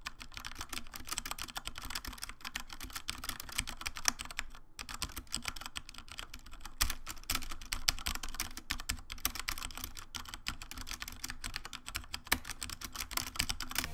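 Fingers type fast on a G.Skill Ripjaws KM780 mechanical gaming keyboard with Cherry MX Brown switches, a dense, steady stream of close, crisp key clacks with one brief pause.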